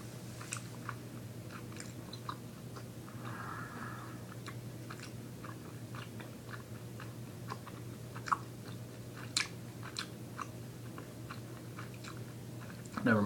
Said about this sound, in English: Taken quite a lot of chewing to get to his innards